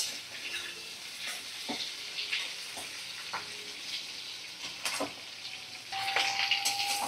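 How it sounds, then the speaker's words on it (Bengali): Potato and papaya pieces fry in oil on a medium flame, a steady close sizzle with intermittent scraping and clinks of a spatula stirring in the pan. "এটা ভালো করে আমি নাড়াচাড়া করে মিডিয়াম ফ্লেমে রেখে ভাজা করে নিচ্ছি"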